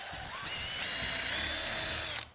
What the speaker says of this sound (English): You don't necessarily have to drill a pilot hole.